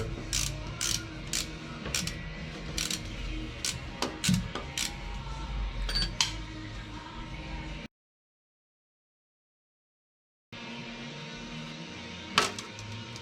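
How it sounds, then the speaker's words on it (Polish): Metallic grinding and irregular clicking from a Dacia Duster transfer case with a broken gear, sharp ticks and rattles over a rumbling drone, cutting out briefly before resuming. "tym razem słychać, że również jakaś zębatka poleciała"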